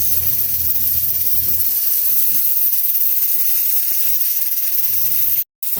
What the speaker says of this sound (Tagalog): Hayaan lang muna natin siyang sumingaw ng kusa niya.